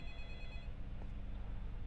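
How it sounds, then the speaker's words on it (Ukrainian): Telephone ringing inside a Minecraft horror map, a thin electronic ringtone tone sounding briefly at the start over a dense low droning game ambience. "хтось дзвонить по телефону"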